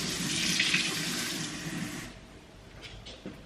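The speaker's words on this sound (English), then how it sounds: "Hold on, I'm gonna put more cold water." Cold water poured into a container to mix with boiling water, a close, steady gush for about two seconds that then stops, followed by faint small clinks and handling sounds.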